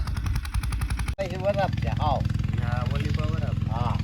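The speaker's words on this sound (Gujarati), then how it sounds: "ના વાડીએ ટ્રેક્ટર હાલે છે" A tractor runs at a farm with a steady, loud, rapid engine chug that continues throughout, close by. A brief cut interrupts it, and someone talks over the engine afterwards.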